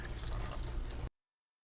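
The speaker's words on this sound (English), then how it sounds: "Now I'm just gonna water them" Water splashes and trickles steadily over freshly watered potted plants in a sink, a close, continuous wash of liquid that cuts off abruptly after about a second.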